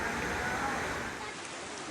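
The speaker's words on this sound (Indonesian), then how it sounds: "Terlihat derasnya arus air menutupi halaman dan jalanan kampung." Torrent of floodwater rushing across yards and village streets in Patemon, Tanggul, Jember, East Java, after heavy rain; a steady, dense roar of water that stays loud and close throughout.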